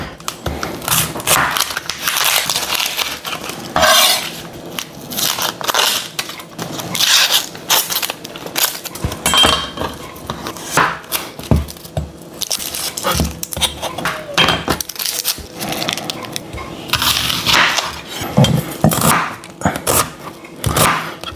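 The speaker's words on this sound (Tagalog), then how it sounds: "ating gayatin na itong ating sibuyas" Onions for Filipino-style biryani sliced thin with a knife on a board, a rapid, uneven series of crunchy chops and board taps, close and continuous, with a voice speaking intermittently over it.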